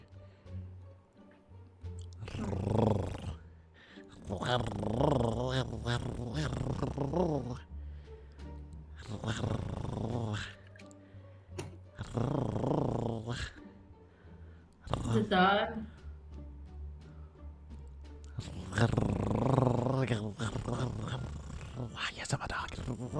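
A person growls and barks in imitation of a dog, rough vocal bursts repeated with short pauses between them.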